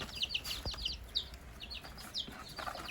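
A brood of eighteen young meat chicken chicks, dark and white, cheeps in high, quick repeated peeps at close range under a warming light, with faint background noise and no talk.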